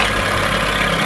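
A boat engine idles at slow speed, giving a steady, loud, low rumble with even vibration and no change in pace, alone without talk.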